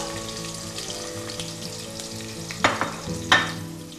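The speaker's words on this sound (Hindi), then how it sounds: "ये मैंने प्याज काट के रखी है यहाँ पे और उसके अंदर साबुत लाल मिर्च 3-4 इसमें डालूंगी मैं और ये प्याज लाल करूँगी।" Chopped onions with three or four whole red chillies fry in a pan, making a continuous loud sizzle with scraping stirs. Two sharp clatters of utensil against the pan stand out near the end.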